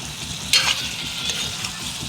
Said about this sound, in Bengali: আরও অল্প কষিয়ে নেব।